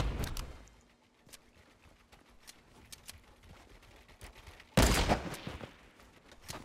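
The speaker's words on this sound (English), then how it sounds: "that's where the shooting's going" Gunfire in a video game, with a couple of sharp bursts at the start, faint scattered shots in the middle and a loud burst near the end.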